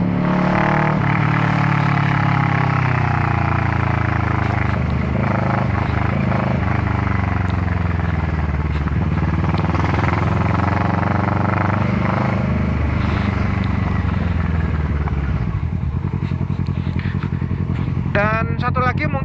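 A 2018 Kawasaki Versys 650 motorcycle fitted with a Two Brothers exhaust runs loud and close, its engine note steady with shifting harmonics and some revving, while someone talks over it throughout.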